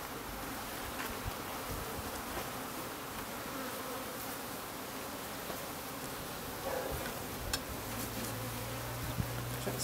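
Honeybees at a new hive buzz in a dense, continuous swarm drone, close and steady, with individual bees flitting past and no voices over the hum.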